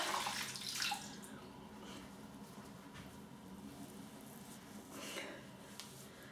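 A shaving brush rinsed under running tap water, a soft continuous splashing hiss close by with brief louder surges as the brush passes through the stream.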